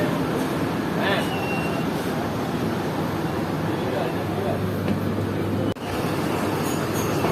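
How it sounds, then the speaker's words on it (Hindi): A passenger train pulls away from Rohri Junction station with a low, steady rumble and rattle of the coaches, a short sharp clunk partway through, and someone talking over the noise. "तो चलें, अब ट्रेन ने चलना शुरू कर दिया है।"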